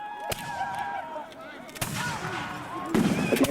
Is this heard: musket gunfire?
yes